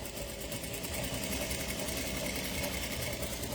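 A sewing machine stitches quilt block fabric in a fast, steady mechanical whir with even rapid needle clatter, close and continuous.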